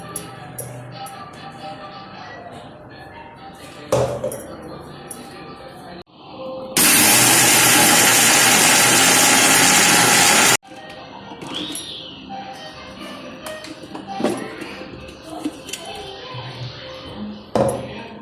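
An electric kitchen grinder whirs loudly and steadily for a few seconds as it powders sugar with cardamom for besan laddoos, starting and stopping abruptly between quieter kitchen sounds.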